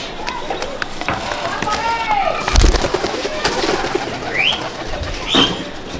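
Pigeons coo in a loft in Chandannagar, with soft warbling calls rising and falling at close range over a busy background, joined by a few sharp chirps and thumps.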